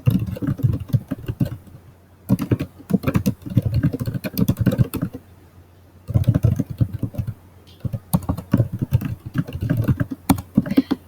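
Fingers type a comment on a computer keyboard, fast clattering keystrokes coming in several close bursts separated by short pauses.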